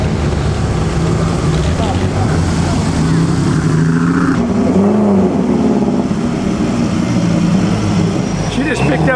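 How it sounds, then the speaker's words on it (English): A Ferrari race car passes through the Ferrari factory grounds during the Mille Miglia, its engine droning steadily amid crowd noise and talk, with the tone swelling and fading as it goes by. "Now here is the Ferrari that was in the racers again."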